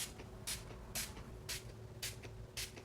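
A hair product is sprayed onto the roots of wavy curly hair in short, soft hissing spritzes about every half second, five or six in a row, faint and close.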